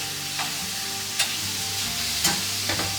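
Meat frying and being stirred in a wok, a steady sizzle with a few sharp scrapes of the utensil against the metal, close and alone.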